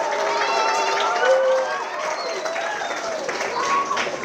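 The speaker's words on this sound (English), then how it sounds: "Let's give her a big round of applause here." A crowd at a school Veterans Day ceremony breaks into sustained applause and cheering, a dense wash of clapping with scattered whoops and voices mixed in.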